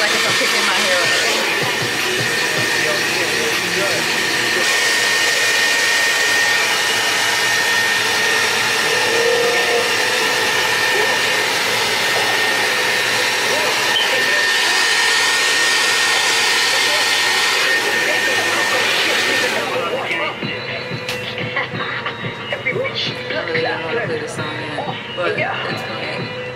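Blow dryer fitted with a comb attachment drying curly hair, a loud steady rushing whoosh running throughout. The pitch shifts slightly as the dryer moves around, and the sound drops off near the end.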